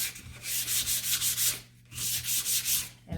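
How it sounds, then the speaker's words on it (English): Sandpaper gently sanding a painted wooden board in rhythmic back-and-forth strokes, with a short pause mid-way before the strokes resume, close and clear. "And I don't have to sand that hard because it doesn't take much"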